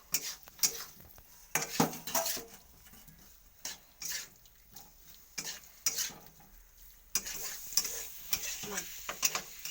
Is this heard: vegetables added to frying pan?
yes